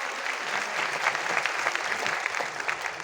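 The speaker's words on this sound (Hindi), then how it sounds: "जोरदार ताली होनी चाहिए, जोरदार" Loud, sustained applause from an audience fills the whole stretch as a dense wash of clapping with no pauses and no talk over it.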